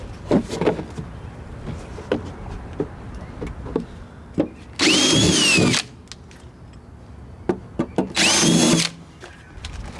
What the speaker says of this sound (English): I'm actually pre-drilling with a smaller drill bit first